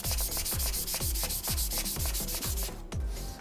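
Rhythmic back-and-forth scraping of 320-grit sandpaper on the hard plastic shell of a PlayStation 5, steady strokes about twice a second, close and loud, no voices.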